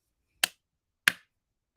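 Three slow, evenly spaced hand claps, each a sharp, loud crack about two-thirds of a second apart, with silence between them and no talking.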